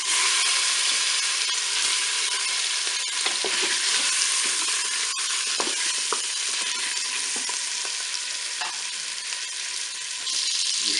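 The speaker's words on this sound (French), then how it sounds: "je vais faire revenir mes paupiettes" Paupiettes browning in hot melted butter inside a Cookeo multicooker, a loud continuous sizzle with scattered pops and crackles, no talk.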